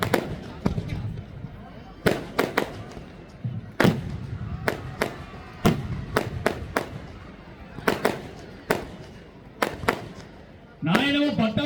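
Firecrackers burst at a New Year celebration: sharp, loud bangs go off irregularly, some near and some farther off, over a low crowd murmur, and a voice rises briefly at the end.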